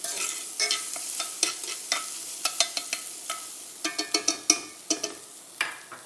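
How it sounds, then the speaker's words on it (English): A spoon stirs garlic into onions frying in a pan, quick close scrapes and taps over a soft steady sizzle, with no voices. "we're gonna add our garlic and just kind of stir it in"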